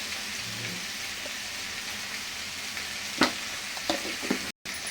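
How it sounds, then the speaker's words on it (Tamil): Liver sizzles and crackles in hot oil with chili powder in a pan, a soft steady frying hiss with a few sharp pops and spits, close but fairly quiet. "நான் இன்னும் கொஞ்சம் மிளகாத்தூள் போடுறேன்"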